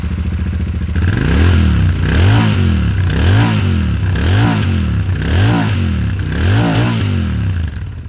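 Royal Enfield Interceptor 650 parallel-twin engine with a 270-degree crank, revved up and down repeatedly in about five rising and falling surges, loud and close, with a rough mechanical throb at idle between them.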